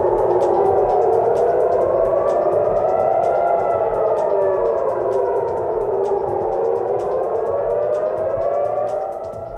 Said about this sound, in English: Sirens blare across Tel Aviv.